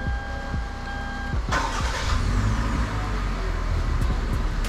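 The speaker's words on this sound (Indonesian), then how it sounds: "sekarang Ibu injek rem sama pencet engine start deh." A Toyota Rush GR Sport engine cranks and starts about a third of the way in, jumping from quiet cabin hum to a steady, close running rumble that continues to the end.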